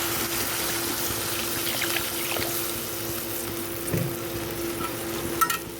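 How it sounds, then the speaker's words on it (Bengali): Water goes into a pan of well-fried spice paste for a potato-stuffed vegetarian curry, setting off a steady loud sizzle with light stirring scrapes and bubbling. "এবার দিয়ে দিচ্ছি জল।"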